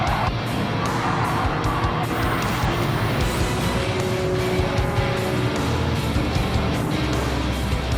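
Race cars in a video game race, among them a Lamborghini P400 Miura prototype, De Tomaso Pantera, TVR Tuscan, third-gen Corvettes and a Ferrari GTO, roar steadily with engine drone and tire skids throughout.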